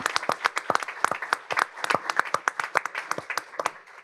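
An audience claps for panelists at a county board of education special meeting, a sparse round of individual hand claps in an uneven rhythm that is near and moderately loud, with no voices over it.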